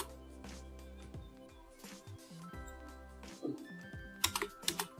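Computer keyboard typing and key presses, a few scattered taps and a short quick burst near the end, faint beneath steady background music.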